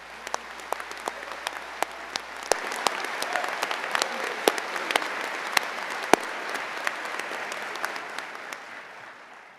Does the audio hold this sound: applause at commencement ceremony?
yes